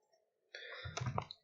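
A single key press on a computer keyboard while drawing circles in CAD software, a short click standing alone in a quiet room.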